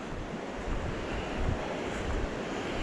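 Dosewallips River flowing along a forest trail, a steady broadband rush of water at moderate loudness with no talk over it.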